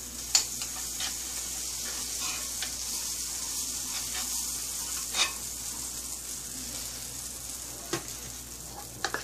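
Butter and pancake batter sizzle on a griddle, a steady close frying hiss with occasional small pops and ticks.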